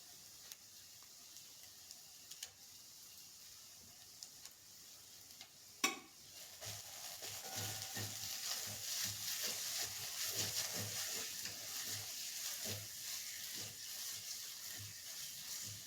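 Masala roasts gently in a pan over moderate heat for a drumstick vegetable curry. It starts near-quiet, then a steady soft sizzle with stirring scrapes and light clinks builds after a sharp knock.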